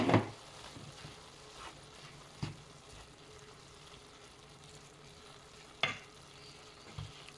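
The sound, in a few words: olives added to cooked kefta, stirring in pan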